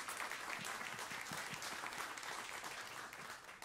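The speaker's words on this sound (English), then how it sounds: "so let's give them a big round of applause" Audience applause for event sponsors at a live jazz talk evening at Jazz St. Louis, steady dense clapping filling the room throughout, fairly distant and even.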